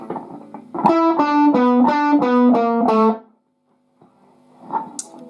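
A distorted electric guitar plays a quick lick, a run of ringing picked notes lasting a couple of seconds, loud and close, then a pause and a faint scrape.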